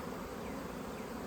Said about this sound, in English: All those bees, it's crazy out here.